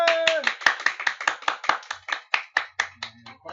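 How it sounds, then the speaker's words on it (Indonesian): Applause from a small group welcoming a presenter at a tutorial session, a run of sharp, fairly close hand claps that fade out gradually, with a brief voice near the start. "Mari kita sambut dengan tepuk tangan."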